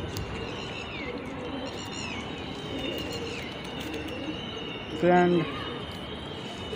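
A pigeon being tended by hand coos once briefly, a short low pulsing call standing out over steady ambient noise and background birdsong, with a person talking nearby.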